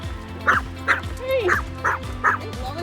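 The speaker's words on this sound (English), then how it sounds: "Look at the size difference between the chihuahua and the Old English sheepdog." Small chihuahuas and an Old English sheepdog bark outdoors, a string of five sharp, evenly spaced yips and barks close by, with a brief whine between them.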